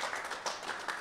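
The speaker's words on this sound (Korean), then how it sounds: "현장 관객분들께서 힘찬 박수를 보내주셨습니다." A live event audience claps in a brief burst, dense and steady and fairly close, with no talk over it.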